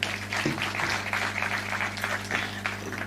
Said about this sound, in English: I think our CEO deserves a bigger hand clap.